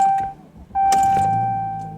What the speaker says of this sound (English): I'm gonna turn my car on.